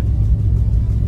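A Volvo tronton bus engine rumbles steadily up close, a deep continuous low drone on a small winding mountain road toward Puncak, Bogor, with no voices over it.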